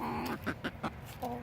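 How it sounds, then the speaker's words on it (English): Chickens on a farm kept for eggs give a few short, separate clucks, fairly close, with a low steady background hum in between and no talking. "We don't kill our chickens."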